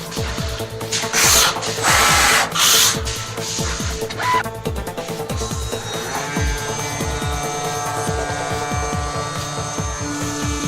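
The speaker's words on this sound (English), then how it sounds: "Driller with countersink diameter is 16 mm. Drilling a hole will cost 5 seconds." An automatic CNC machine drills holes in 8 mm glass with a 16 mm countersink bit, giving a steady mechanical whir with rhythmic ticking, loud hissing bursts of coolant or air, and a continuous motor tone.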